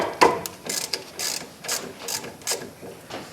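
A ratchet wrench loosens an 11 mm rear brake bolt on a 2005 Chevrolet Suburban 1500 4x4, giving a series of short, close clicking bursts with brief pauses between strokes.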